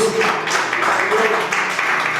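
Congregation applauding in a church service, a steady dense wash of clapping held at even loudness throughout, with faint voices mixed underneath.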